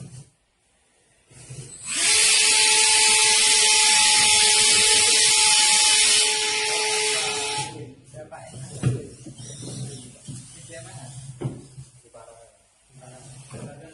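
A brushless motor fan on a wheeled firefighting robot in a fire-extinguishing contest runs as a loud, sustained whining rush for roughly six seconds, then cuts out, leaving a person talking over room noise.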